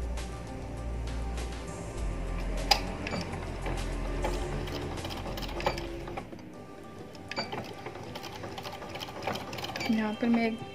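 A sewing machine stitches fabric for a fancy sleeve design with a rapid mechanical whir that runs steadily, then breaks into shorter bursts near the end. Someone talks throughout.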